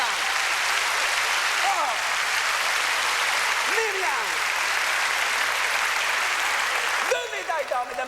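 Studio audience applauding a female Canadian Olympic double gold medalist on a televised variety show, steady clapping throughout with a voice speaking briefly over it.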